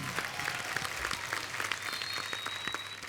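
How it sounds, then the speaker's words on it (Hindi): Studio audience at a television comedy show applauding, a dense, steady burst of many hands clapping for about three seconds at moderate volume, with no voices over it. "जोरदार तालियां गुरु और संजना के लिए।"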